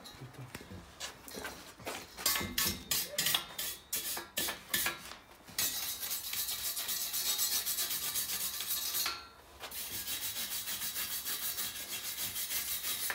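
A brush scrubs a part on a Peugeot 106 in a garage, starting with a run of quick back-and-forth rasping strokes and then settling into a long, steady, close scrubbing hiss with a brief pause near the end.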